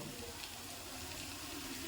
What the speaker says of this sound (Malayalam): അപ്പോൾ 2-ാം പാൽ ഒഴിക്കുവാണ്